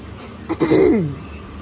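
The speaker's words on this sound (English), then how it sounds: "I keep just spitting and clearing my throat." A single short throat clearing, close and moderately loud, a rough guttural rasp lasting about half a second against quiet background.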